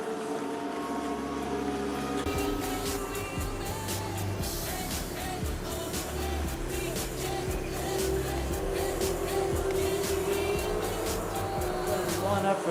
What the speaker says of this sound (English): Flat out, you hear them valve bouncing going down the main straightaway.